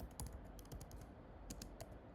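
Rapid typing on a computer keyboard while installing MySQL on a Mac, a steady run of close, crisp key clicks with short pauses, no talking.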